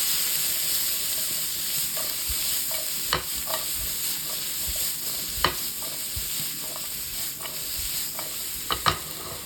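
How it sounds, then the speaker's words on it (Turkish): Peppers, zucchini and other vegetables sautéed over high heat in a pan, a steady sizzle and hiss with repeated scraping stirs and occasional sharper clinks of the utensil, close and moderately loud throughout, no talking. "Sürekli çevire çevire sebzelerimizi soteliyoruz."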